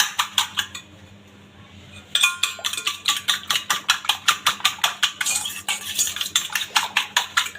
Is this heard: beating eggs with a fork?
yes